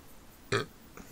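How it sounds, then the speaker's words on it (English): One short, close burp cuts abruptly through an otherwise quiet room. "I'm fucking burping."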